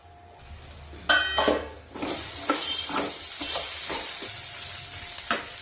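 Flattened rice (avalakki) tossed and fried in a pan for gojju avalakki, with scraping stir strokes and clinks of a spoon against metal over a steady, close sizzle.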